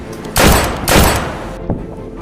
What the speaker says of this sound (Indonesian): Ayo tembak saya kalau bisa.